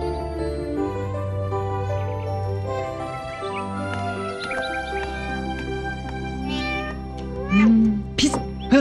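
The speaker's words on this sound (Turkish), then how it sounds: "Kov şu kediyi Bedri." A cat meows in a Turkish home setting, several drawn-out and rising calls heard close over a sustained musical background with some faint clinks.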